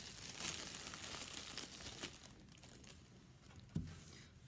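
A plastic bag is crinkled and rustled by hand, giving a steady close crackle with a few sharper crunches, one standing out near the end. No voices are heard.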